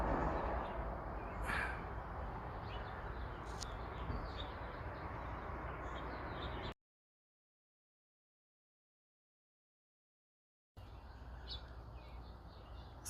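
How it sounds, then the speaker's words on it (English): A great-tailed or Mexican grackle in a garden gives scattered faint chirps and calls over steady outdoor background noise, broken by a few seconds of total silence. "great-tailed grackle or a Mexican grackle"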